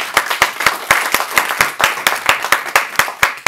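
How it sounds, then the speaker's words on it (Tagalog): Church congregation clapping in steady, rhythmic unison during a sermon, loud and close, each sharp clap evenly spaced with a faint crowd murmur beneath. "Malakas sa palakpak po para sa Panginoon."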